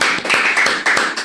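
Scattered hand claps from a small studio audience on a Brazilian podcast set, a handful of sharp irregular slaps close by, fairly loud and with no one talking over them.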